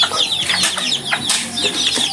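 Chickens cluck repeatedly in short bursts on a farm where goats are also kept, several birds close by and overlapping at moderate loudness, with no talking.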